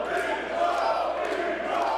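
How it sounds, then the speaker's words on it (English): Wrestling crowd at a TLC match shouting for Toby Zane, a steady dense roar of many voices, loud and continuous throughout. "And the crowd's still shouting for Toby."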